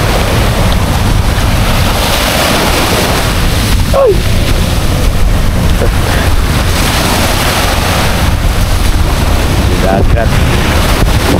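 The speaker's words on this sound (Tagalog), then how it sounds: "Grabe ka kusog sa balon" Loud, steady roar of heavy surf and wind at Dolomite Beach in Manila filling the whole clip, with a brief shout partway through.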